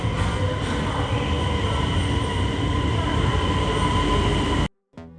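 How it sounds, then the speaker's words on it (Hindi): A passenger train rumbles past at close range, a loud, steady roar of wheels on rails, then cuts off abruptly near the end. "ये देखो प्यारे बच्चों, पैसेंजर ट्रेन।"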